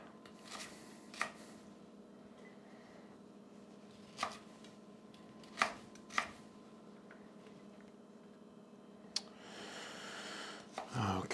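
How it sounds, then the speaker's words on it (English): A knife rough-chopping fire cider ingredients such as lemongrass on a board, sparse sharp thuds spaced irregularly, several close and crisp, over quiet room tone. "just a real basic rough cut on these"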